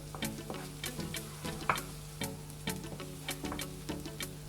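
Garlic sautéing in a pan with a steady faint sizzle, punctuated by regular scraping and tapping strokes of a utensil stirring, close and without talk.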